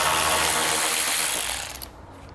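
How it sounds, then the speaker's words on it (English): A ratchet fitted with a 10mm socket works loose a plastic nut on a 2017 Chevrolet during hitch installation, giving a continuous loud, dense clicking rattle that tapers off into a few separate clicks at the end. "We'll use a 10mm socket for the plastic nut"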